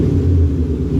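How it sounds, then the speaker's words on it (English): A 2015 Chevrolet Camaro SS with an L99 V8 and a cold air intake idles in a deep, steady low rumble, close and loud for a brief moment. "So just to let you hear the car again"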